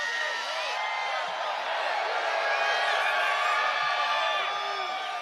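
Large crowd at a Bernie Sanders campaign rally in Brooklyn cheering and whooping steadily throughout, a dense wash of many voices with scattered shouts rising above the roar.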